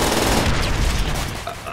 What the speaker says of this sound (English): We got tank rounds coming in.